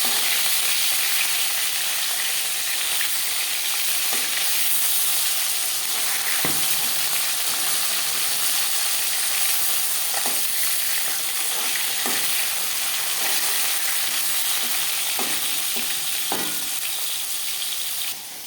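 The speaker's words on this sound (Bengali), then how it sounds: "একটা সাইড ভাজা হয়ে গেলে অপর সাইডটা উল্টে দেবো।" Koi fish frying in oil for Bengali tel koi, a steady, loud broadband sizzle that holds throughout with occasional brief sharper pops and crackles, no voices.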